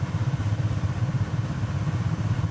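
A steady, rumbling propeller-engine drone from a DC-3 in a flight simulator, engine RPM running a bit high, holds at a constant pitch throughout, loud and close, with no voices.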